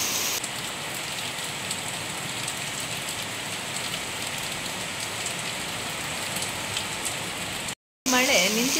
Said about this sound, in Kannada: ಮಳೆ ನಿಂತಿತೇನ ಅನ್ಕೊಳ್ಬೇಕಾದ್ರೆ ಅದ್ರ ಹಿಂದೆ ಇನ್ನೊಂದು ಶುರು ಆಗ್ತದೆ ನೋಡಿ